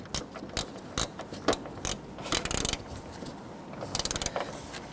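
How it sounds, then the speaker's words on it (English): A hand ratchet clicks in quick short runs, close and clear, as it snugs down a bolt on the AC suction and liquid hose assembly of a 2017-2020 Hyundai Elantra. "Then we're just going to put a ratchet on there and snug that down."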